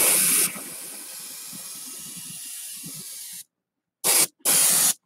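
An airbrush hisses paint onto a model piece in a steady close spray for about three seconds, then stops and gives two short bursts after a silent gap.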